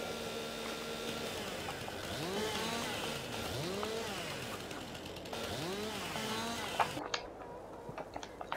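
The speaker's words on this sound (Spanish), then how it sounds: "con la motosierra. Deja de funcionar y no sé por qué." A chainsaw in the video game Farming Simulator 22, whining and revving up and down in repeated arcing sweeps over a steady engine drone, then dropping off into a few sharp clicks and knocks near the end.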